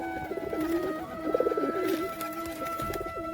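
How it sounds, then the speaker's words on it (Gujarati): Pigeons at a rural village coop coo in repeated soft, rolling calls over a steady background hiss, with several overlapping birds heard at close range and no talking. "ઘણા બધા કબૂતર તમને પકડા તો પકડવા પણ દે."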